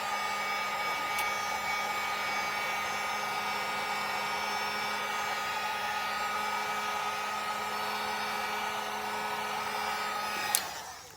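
A hair dryer runs continuously at close range, heating a McFarlane DC Multiverse action figure, a steady whining blow that cuts off near the end with a click.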